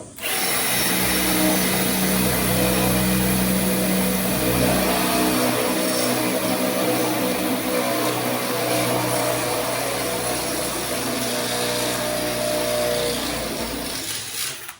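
A drill bores through a hole while a jetter is being fitted to a ute, running as a steady, loud, continuous whir for the whole stretch with no pauses.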